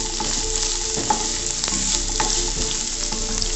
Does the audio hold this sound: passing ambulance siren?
no